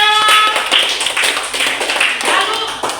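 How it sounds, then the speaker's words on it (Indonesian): Classroom applause from students in a lesson, a short burst of scattered clapping that fills the room and fades over a few seconds. "Tepuk tangan untuk Jo"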